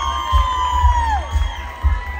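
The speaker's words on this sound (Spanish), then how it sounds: "despedimos con un aplauso" An audience at a live entertainment show cheers and whoops in a short burst, with rhythmic low thumps beneath a sliding tone, loud and close, no distinct clapping.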